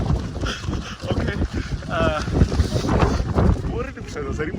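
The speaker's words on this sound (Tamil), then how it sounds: "செம்ம காற்று, செம்ம மழை." Strong wind and rain buffet the microphone at the Thalanar top viewpoint in Valparai near Pollachi, a loud, steady rushing roar throughout with some voices mixed in.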